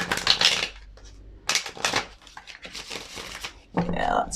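Tarot cards are shuffled in a few quick papery bursts of riffling and sliding, close and fairly loud, with short pauses between them.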